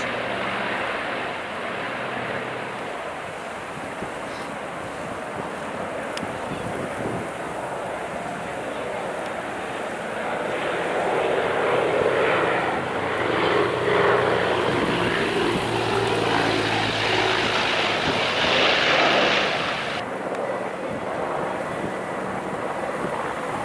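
Low droning engines of firefighting aircraft rumble overhead a wildfire in Datça, Turkey, amid wind noise, swelling louder midway before easing, with faint voices talking underneath.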